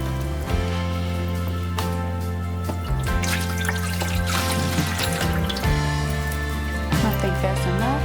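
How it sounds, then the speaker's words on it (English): Water trickling and dripping into the bottom of a pot for cooking, intermittent pouring sounds over steady background music. "I am going to put a little water in the bottom of here so that it can cook evenly."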